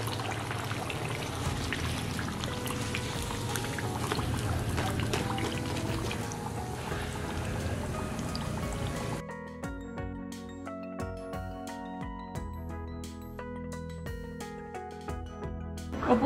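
Fried Bengali potato chops (alur chop) are lifted out of hot oil: a dense, steady sizzle of frying gives way to sparse drips and light clinks as they come out.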